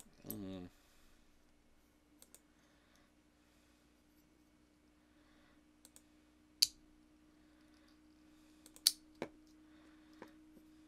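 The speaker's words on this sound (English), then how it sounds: "Sorry about the clicking noise, I'm just fiddling with the" Small metal bulldog clips being fiddled with give off sparse, quiet, sharp clicks at irregular intervals over a faint steady hum.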